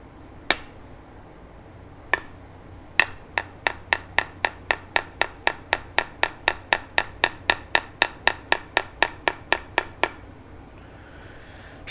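Sharp percussive strikes on a flint edge during flintknapping trimming, a few spaced taps then a steady rapid series of about twenty-five crisp clicks, close and distinct over a quiet background.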